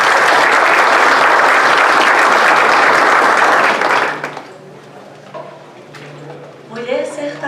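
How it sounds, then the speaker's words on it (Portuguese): Audience applause for Rosânia at a book launch, loud and dense for about four seconds before it stops abruptly, followed by quiet room sounds and a voice starting to speak. "Palmas para Rosânia."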